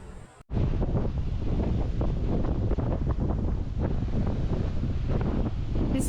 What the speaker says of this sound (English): The wind's picked up today.